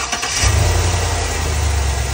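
Chevrolet gasoline car engine catches with a brief cranking sputter, then runs at a steady, loud low idle rumble.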